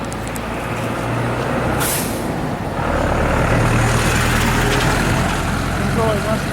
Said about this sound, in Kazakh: Грузовой машиналар